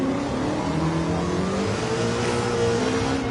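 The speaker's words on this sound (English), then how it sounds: "I think Swan missed a shift" A race car in a racing video game revs continuously at close range, its engine tone climbing and shifting pitch as gears change, loud and steady with no speech.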